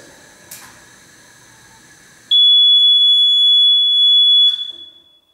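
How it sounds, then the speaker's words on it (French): A household gas detector alarm sounds after its test button is pressed, a loud continuous high-pitched electronic tone that holds steady for about two seconds, then cuts off, following a brief click and quiet room noise. "je vais appuyer sur la touche test du détecteur de gaz pour simuler une fuite de gaz"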